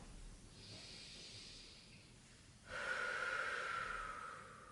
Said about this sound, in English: breathing in and breathing out. So we're going to do 5 breaths in this position.